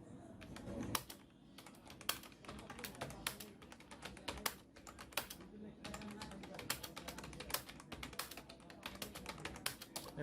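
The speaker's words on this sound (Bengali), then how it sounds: "এভাবে আপনারা টাইপ করবেন।" Fast typing on a computer keyboard during a typing lesson, a quick irregular stream of crisp key clicks up close, with a faint voice speaking underneath at times.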